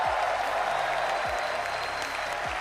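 Sustained crowd applause and cheering fills the hall at the Rocket League RLCS World Championship in Dusseldorf, a steady loud wash of clapping with no break.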